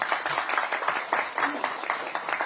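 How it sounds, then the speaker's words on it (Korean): An audience at a Democratic Party campaign event gives a round of applause, with dense, rhythmic clapping filling the hall from fairly close by, steady and unbroken for a couple of seconds. "우리 이시종 전 지사님께 박수 한번 보내주시고요."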